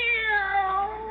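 A single drawn-out cat meow, close and clear, its pitch sliding gently downward over about a second.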